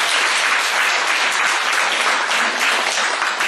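An audience on a university group's visit to an army division claps loudly and continuously, a thick, even roar of many hands with no pauses.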